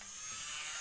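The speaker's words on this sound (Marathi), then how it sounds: "ही एक गन आहे आपली प्लाझ्मा" A plasma gun fires in the video game Free Fire, giving a brief, steady electric buzz with a bright hiss on top that holds level for under a second.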